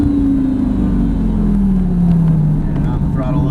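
A Lamborghini Gallardo's engine drones loud and close as it comes out of a corner at a track driving experience, a steady low roar whose pitch slides slowly downward.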